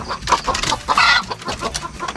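Several chickens cluck nearby in quick, overlapping bursts, fairly loud and continuous with no talking.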